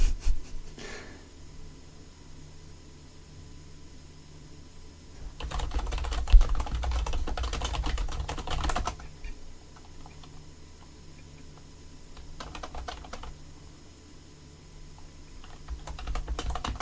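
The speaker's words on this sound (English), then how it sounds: "I'm actually typing to you." Computer keyboard typing during a Total War: Warhammer 2 Greenskins session, with soft irregular clicks and a denser burst of keystrokes midway, faint and close under a low background hum.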